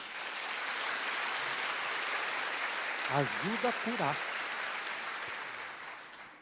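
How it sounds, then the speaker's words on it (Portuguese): Studio audience applause at a Catholic television show, a dense continuous wash of clapping that fills the whole stretch while someone speaks briefly over it. "Uma salva de palmas, gente."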